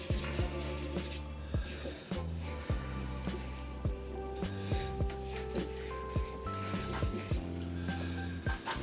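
Steady rubbing and sanding on a wooden shaving brush handle, a continuous gritty rasp with rhythmic strokes and occasional light knocks, close up.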